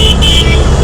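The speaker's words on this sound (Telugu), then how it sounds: "ఒక్కొక్కడు హారన్ మీద హారన్లు కొడుతున్నారు." A loud car horn blares from the vehicle queue at a railway crossing traffic jam, a short sustained honk close by over rumbling engines.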